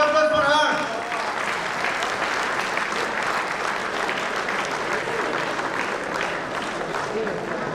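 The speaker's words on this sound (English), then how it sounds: "Please big round of applause for her." At a golf tournament gathering, a crowd gives a big, sustained round of applause for a special guest; a brief voice opens the moment before dense, steady clapping carries on evenly to the end.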